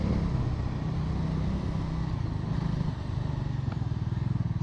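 Bajaj Dominar 350 motorcycle riding through Delhi traffic, a steady close engine drone with rumbling road noise and passing traffic throughout, no talk.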